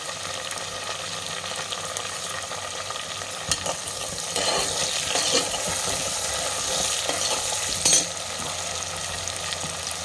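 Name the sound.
frying spices and dried red chilies in a pan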